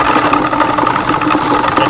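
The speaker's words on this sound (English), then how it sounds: "I just mounted the motor right here" The electric motor of a homemade rock tumbler, mounted with a gear assembly on a drilled base, runs loudly and close with a steady buzzing hum and slight rattling vibration.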